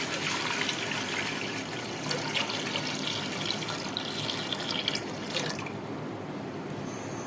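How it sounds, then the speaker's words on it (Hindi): Water pours steadily into a pot for boiling rice, a continuous splashing stream that shifts in pitch as it fills, then stops near the end. "चावल बॉईल करने के लिए सबसे पहले हम पानी इसमें डालेंगे"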